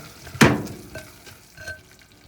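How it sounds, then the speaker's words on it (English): A spoon stirs a teaspoon of butter into hot microwave peanut brittle in a cup, opening with one loud scraping clatter followed by a few fainter scrapes and clinks. "So now we add 1 teaspoon of butter to the cup and give it a stir."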